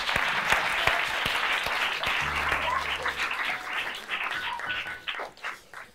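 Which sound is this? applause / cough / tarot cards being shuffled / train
applause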